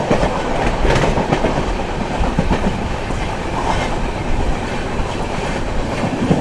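The 12967 Chennai Central–Jaipur Weekly Superfast Express running at speed past Tenali, a loud, steady rumble of wheels on rails with rhythmic clickety-clack beats throughout and no voices.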